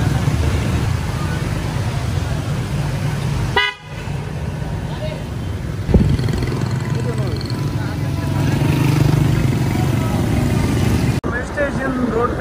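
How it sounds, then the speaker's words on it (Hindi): A motorcycle passes through a rain-flooded street on Station Road in Khairpur, its engine a steady low drone among traffic noise and short horn toots, with voices talking over it. "एक बाइक हमारी आगे से जा रही है"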